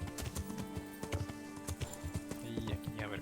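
Horse hooves clip-clopping at a steady trot in the Kingdom Come: Deliverance video game, rhythmic close hoofbeats with a snort or whinny, while someone talks over them.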